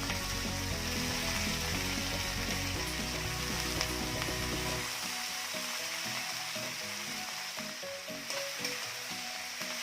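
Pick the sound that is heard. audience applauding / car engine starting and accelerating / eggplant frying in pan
eggplant frying in pan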